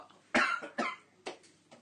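Three sharp coughs from one nearby person in a kitchen around a hot oven, spaced unevenly with a fourth fainter cough at the end, standing out loudly against a quiet room.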